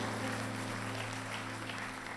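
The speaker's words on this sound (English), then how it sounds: "Yeah, they're going to clap over here." A church congregation applauds during a baptism service, a soft, steady wash of clapping heard from some distance that carries evenly through the short stretch without any voices over it.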